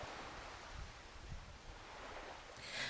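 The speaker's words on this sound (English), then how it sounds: "sounds of the ocean waves" Faint, steady ocean wave ambience with a soft continuous wash of surf and slight wind noise, low in level with no voices.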